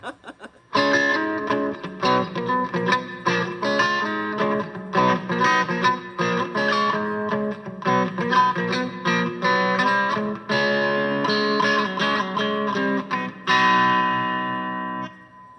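A distorted electric guitar, a Squier by Fender Strat, plays a series of chords and riffs with brief gaps, ending on a sustained, ringing chord.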